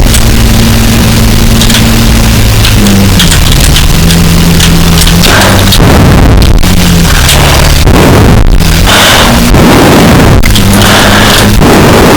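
A car drives onto the street with a loud, close engine drone whose pitch steps up and down as it accelerates, broken by bursts of rough rumbling noise, with no talking.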